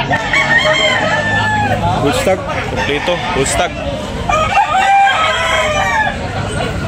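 Gamecocks at a rooster sale in Tabunok, Talisay, Cebu crow repeatedly and cluck close by, loud and overlapping, while a seller talks and calls out prices throughout.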